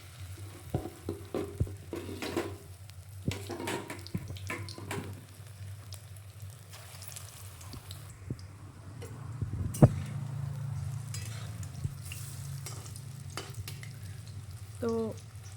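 Chicken pakoras frying in hot oil, a soft bubbling sizzle that swells midway as more pieces go in, with scattered clicks and taps of utensils, fairly quiet and close.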